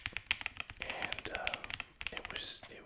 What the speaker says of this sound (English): I love the sound of that keyboard